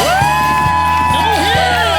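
Crowd at a street show in downtown Las Vegas cheering, whooping and screaming continuously and loudly over amplified music, with a dense wall of voices.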